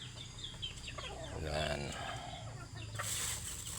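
Outdoor chickens being fed clucking close by in a steady scatter of calls, with a brief spoken word over them.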